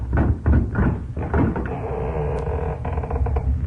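A door is opened in an old radio comedy, heard as close knocks, a latch rattle and a creaking swing in a boxy, slightly muffled recording.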